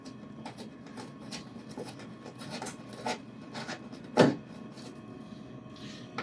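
A screwdriver turns a screw into a CPU board, making a series of soft, rhythmic scraping and ratcheting strokes, with one sharper squeak near the end, close and fairly quiet.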